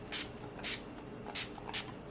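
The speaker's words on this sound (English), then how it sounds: "First, the Tower 28 SOS spray." Four quick hissing spritzes of a Tower 28 SOS face mist spray bottle, close and crisp, evenly spaced in two pairs over a quiet room.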